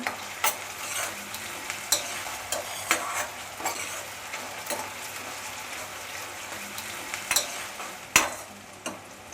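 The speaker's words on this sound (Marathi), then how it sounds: "तर आता ह्या तेलामध्ये ना आपल्याला कांदा आणि टॅमॅटो आहेत ना ते फक्त आपल्याला मऊ करून घ्यायचं आहे टॅमॅटो परतून घेऊया" Onion and tomato sautéing in hot oil for a pomfret sukka curry, a constant sizzle broken by repeated clinks and scrapes of a spoon stirring against the pan.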